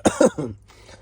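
A few short, close coughs in quick succession, then quiet.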